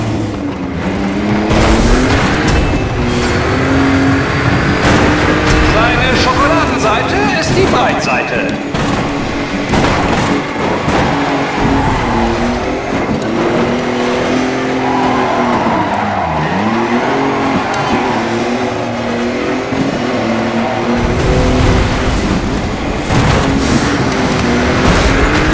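Race car in the video game Dirt Showdown crashing and skidding, with loud continuous engine roar, thumps of impacts and tire scrapes throughout, under a person talking.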